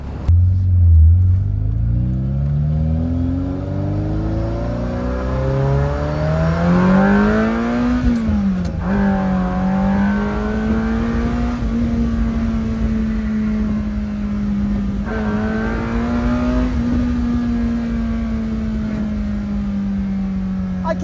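A loud, catless 40-year-old Ferrari pulls hard through the gears, its engine holding a steady, droning roar from inside the cabin, with a brief dip at each shift and no talking.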